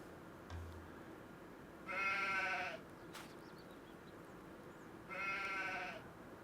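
Sheep in the Farming Simulator video game bleat twice, each a clear drawn-out baa about a second long, separated by a quiet gap with faint background ambience.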